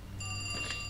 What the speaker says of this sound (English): The phone will ring,